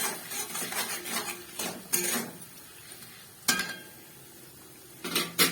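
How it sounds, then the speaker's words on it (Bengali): Red chili paste is sautéed with cauliflower in a pan, with a spoon clanking and scraping against the pan in several sharp bursts over a faint low sizzle, no voices. "এই বাটাটা আমি দিয়ে দিলাম, দিয়ে একটু ভালো করে কষাবো।"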